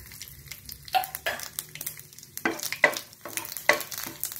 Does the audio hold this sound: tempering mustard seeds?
yes